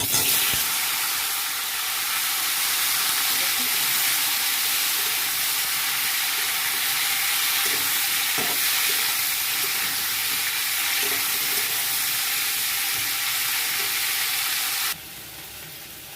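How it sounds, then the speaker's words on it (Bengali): Cut yardlong beans and potatoes frying in hot oil in a wok make a loud, continuous close-up sizzle that holds steady throughout and then drops suddenly to a quieter hiss near the end. "এবার আমি বরবটি আলু কেটে রাখা এগুলো সব দিয়ে দেব"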